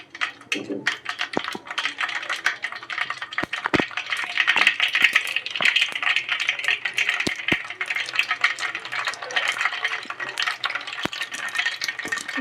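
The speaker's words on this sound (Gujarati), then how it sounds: "રાઈને તો તળવા દઈશું." Mustard seeds fry in hot oil for a Gujarati tempering, a steady dense crackle and hiss running throughout with sharp scattered pops and clicks, close and fairly loud.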